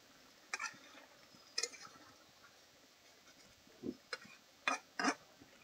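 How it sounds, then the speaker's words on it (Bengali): A spoon or spatula gently stirs papaya curry in a pan, giving a handful of sparse, brief scrapes and clinks with quiet pauses between them. "এবার হালকা হাতে নেড়ে নেব।"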